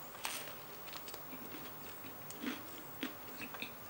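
Someone bites and chews a dry fast-food burger from McDonald's, producing soft, irregular crunching and mouth noises up close, quiet and without speech.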